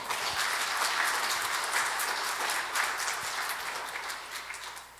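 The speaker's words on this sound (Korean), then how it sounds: "우리 부목사님들에게 큰 박수 한번 주십시오" A church congregation at a Sunday evening service applauds steadily, a dense wash of many hands clapping throughout that eases slightly toward the end.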